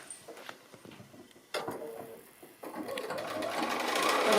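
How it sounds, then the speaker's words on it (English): A sewing machine stitches around a seam of a small fabric robin, starting with light clicks and handling noise, then running in bursts that build into a continuous close whirring stitch. "Otherwise we're just going to sew around that seam."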